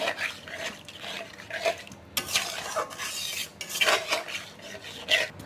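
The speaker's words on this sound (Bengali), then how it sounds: "পানিটা দিয়ে ভালো করে এটাকে নাড়াচাড়া করে নিচ্ছি।" A utensil scrapes and clanks repeatedly against a pan while a pointed-gourd and yogurt curry is stirred after water is added, in uneven bursts close to the listener.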